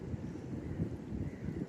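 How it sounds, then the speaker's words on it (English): Steady wind on a beach rumbles and buffets the microphone in a low, continuous roar, with no other distinct sounds. "It's a bit windy here on the beach"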